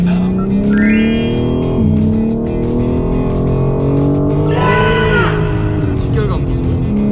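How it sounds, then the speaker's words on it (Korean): A BMW car engine at a BMW Driving Center revs at high RPM after a gear shift in a sport drive-logic setting, a loud, sustained, close roar with rising and falling pitch and a sharp upward sweep near the middle. "올리자마자 RPM이 높게 유지되는 걸 느끼실 수가 있겠고요. 더 빠른 가속을 하실 수 있습니다"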